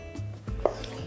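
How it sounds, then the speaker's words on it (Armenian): A kitchen knife slices pickled gherkins into thin sticks on a cutting board, making a few crisp, separate chops close by with no speech over them. "Սրանք էլ ենք կտրատում"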